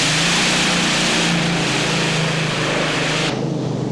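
Tractor-pulling tractor powered by twin Rolls-Royce Griffin aero engines from a Shackleton bomber, at a 1995 European pull at Walibi Flevo, Holland, roaring loud and steady throughout with a broad engine drone.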